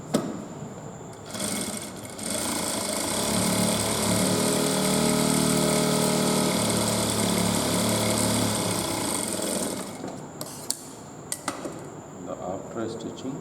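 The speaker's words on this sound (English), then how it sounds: "And now I am going to stitch." Sewing machine stitching a men's trouser belt to its lining, a close, steady mechanical whirring run of about eight seconds, preceded and followed by brief stops, starts and handling clicks.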